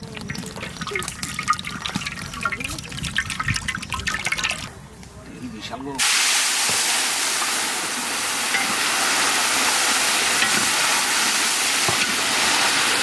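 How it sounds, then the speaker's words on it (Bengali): Katla fish fries in hot mustard oil in a village kitchen. Talk fills the first half, then a loud, steady sizzle starts abruptly and continues close up to the end. "এখন কাতলা মাছ ভাজবে, আমি সর্ষের তেলটা ঢেলে দেবো।"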